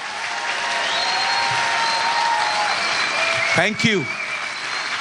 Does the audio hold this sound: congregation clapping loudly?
yes